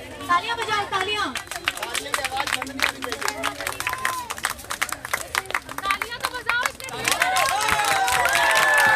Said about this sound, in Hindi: तालियां बजाओ, तालियां